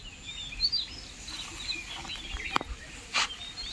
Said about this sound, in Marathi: आता या व्हिडिओमध्ये तुम्हाला चिमण्यांचा आवाज देण पण ऐकू येत असेल